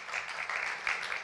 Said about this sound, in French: j'aimerais qu'on puisse applaudir Nathalie qui va venir